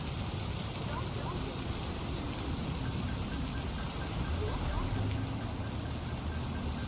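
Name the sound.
rain falling harder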